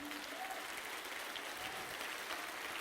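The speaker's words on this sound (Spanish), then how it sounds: "Dale un aplauso a Jesús" Church congregation clapping steadily and faintly, a continuous wash of applause heard from a distance.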